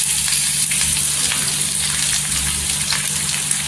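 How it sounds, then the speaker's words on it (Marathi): Onions and curry leaves fry in hot oil for a dry Bombay duck masala, giving a steady, loud, close crackling sizzle with no talking. "इथे कढीपत्ता टाकायचा आणि इथे 2 ते 4 कांदे टाकलेले आहेत"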